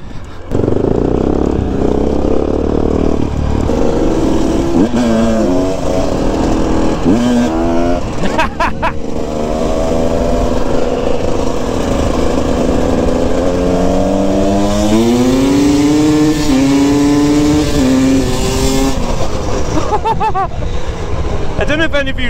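A KTM 250 EXC two-stroke dirt bike engine revs and labors up a steep, off-camber hill climb, its pitch rising and falling with throttle blips and sustained pulls, loud and close throughout with breathing and effort sounds mixed in.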